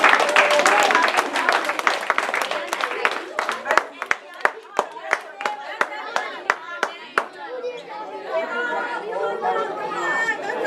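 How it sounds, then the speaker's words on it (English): An audience in a community gathering applauds young marchers with chatter and a burst of clapping, and several sharp, separate claps ring out as it thins. Talk continues underneath, and clapping stays mixed with crowd voices. "I want to congratulate y'all and give y'all a round of applause."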